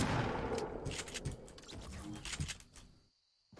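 Close-range gunfire in a shooter video game, a dense burst of rapid shots that fades and stops near the end.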